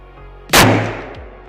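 A single Edgun Lelya 2.0 air rifle shot fired outdoors at a target range, a loud sharp crack followed by a short fading tail and a faint distant impact tick about half a second later.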